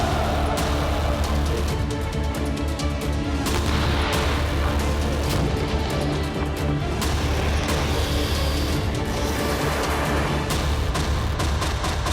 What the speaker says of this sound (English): Blasts have echoed across Kiev after officials said Russia launched its first missile attack on the Ukrainian capital since August.